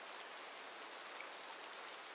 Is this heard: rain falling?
yes